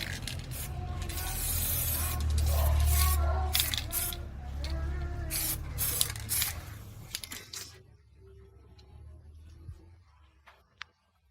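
A spray can hisses continuously as paint is sprayed directly onto the yellowed plastic of a refrigerator, loud and close for about eight seconds with brief interruptions, then stops and leaves quiet room sound.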